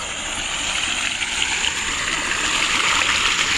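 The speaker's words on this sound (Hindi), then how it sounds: "बहुत दूर तक पानी आ रहा है भाई इधर से" A village river in Chhattisgarh flows steadily nearby, a continuous broadband rush and gurgle of moving water that stays even and fairly loud throughout, with no voices over it.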